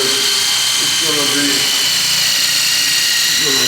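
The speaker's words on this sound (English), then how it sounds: "I'm drilling this in the wall" A power drill bores into a gallery wall in a front lobby, a steady high buzzing whine that runs through the clip with someone talking over it.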